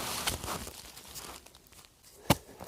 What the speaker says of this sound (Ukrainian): Розкопаємо трішки яму, є ще сигнал.